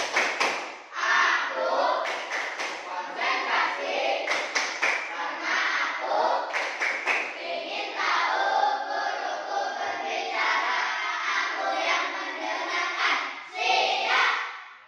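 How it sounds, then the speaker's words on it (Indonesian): Children play a rhythmic concentration clapping game in a classroom, with sharp hand claps and taps repeating in patterns under steady chanting voices throughout. "tepuk konsentrasi"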